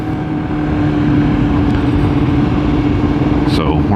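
A Yamaha R6 sport motorcycle runs with a steady, loud mid-pitched engine drone that holds constant throughout, with a faint higher whine near the end.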